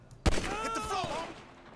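A burst of video game gunfire in GTA cuts in sharply, followed by a ringing, warbling tail that fades out, close and fairly loud.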